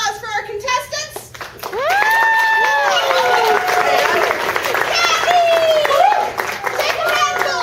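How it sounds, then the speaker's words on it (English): Audience applause and crowd noise for contestants at a Cosplacon 2017 ninja-games stage event, a steady wash of clapping mixed with loud, high children's shouts and voices from about two seconds onward. "we're going to give a big round of applause for our contestants"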